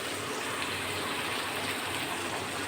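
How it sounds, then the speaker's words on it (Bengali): Hot oil bubbling in a cooking pan after the added water has boiled off, a dense, even frying hiss heard up close with no break and no talk. "তেল ফুটে উঠেছে।"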